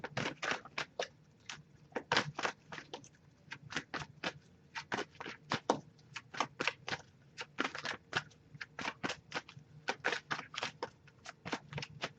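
Rapid riffling and snapping of a tarot card deck being shuffled by hand, in quick bursts of crisp card flicks repeating steadily and close to the microphone, with no talking.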